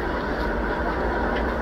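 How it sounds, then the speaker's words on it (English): An Amtrak passenger train rolls along the rails, a steady, dense rumble with broad rushing noise heard from on board, with no speech. "I'm on a train, so it doesn't matter."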